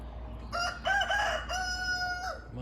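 A rooster crows on a farm, one clear close cock-a-doodle-doo with a rising middle and long held ending, over faint background noise.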